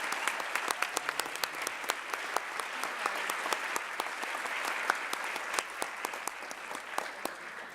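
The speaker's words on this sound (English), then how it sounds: "Let's give one more round of applause for all of our nominees." An audience at a regional educators' awards ceremony applauds the nominees, a dense crowd of rapid overlapping claps that holds steady for several seconds with no one speaking.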